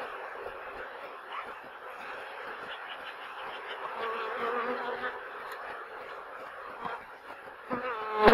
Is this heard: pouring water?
no